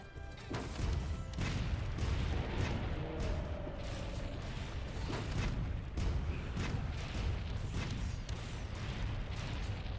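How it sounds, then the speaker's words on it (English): Ship cannons fire repeatedly in Monster Hunter World: Iceborne, a steady barrage of heavy booms and crashing impacts filling the scene with dense, rumbling battle noise and no voices. "we're just going to be loading up the cannons here and then shooting them."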